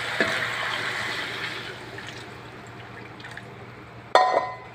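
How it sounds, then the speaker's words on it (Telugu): Mutton broth pours steadily into a pot of rice with a soft, continuous splashing hiss that fades, followed by a sharp clink near the end. "మటన్ బాయిలింగ్ చేసిన వాటర్ వేసుకోవాలి"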